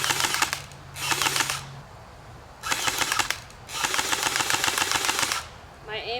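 An automatic gel ball blaster toy gun fires in rapid rattling bursts at a target, four sustained volleys of fast mechanical clicks separated by brief pauses.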